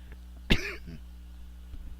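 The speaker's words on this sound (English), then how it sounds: "Gotta cough up half a lung." A single sharp cough close up, followed by a brief throaty rasp, then quiet.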